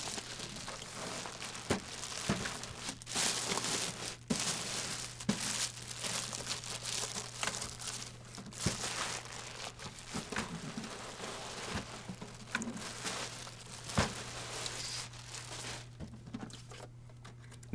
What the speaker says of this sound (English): Remove the printer from the bag.